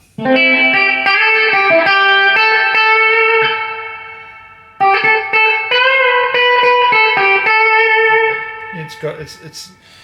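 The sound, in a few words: electric guitar through cranked amplifier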